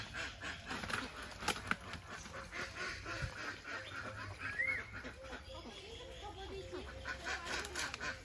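A red village rooster clucks and squawks in short, scattered calls while being caught outdoors, with people talking nearby and rustling movement throughout.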